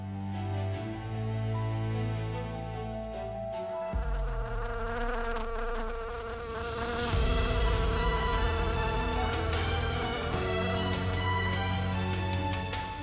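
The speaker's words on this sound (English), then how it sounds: "the air thick with the angry hum of insects" An angry, dense hum of African bees swarming to defend their hive fills the air, a continuous buzzing drone that swells and thickens partway through, close and loud with no voices.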